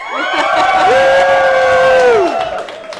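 A live crowd in Minneapolis cheers and whoops loudly, with one prominent voice rising in a long yell above the roar for about three seconds.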